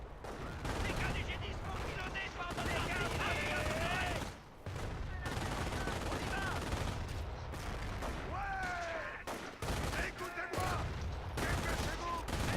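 Rapid machine gun bursts and explosive bangs from a Company of Heroes World War II battle near a bunker, dense and continuous, with gaps, and a voice speaking over the gunfire.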